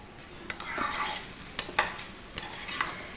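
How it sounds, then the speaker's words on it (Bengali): A brinjal dish cooks in a pan over a low flame, with a soft background sizzle and a few distinct scraping stirs of a spoon against the pan, quiet and close without any talk. "এখন আমি গ্যাসটাকে আবার কমিয়ে ফ্লেমটাকে একটু লো করে কিন্তু এটাকে 2 থেকে 3 মিনিট কন্টিনিউ এভাবে নেড়ে চেড়ে"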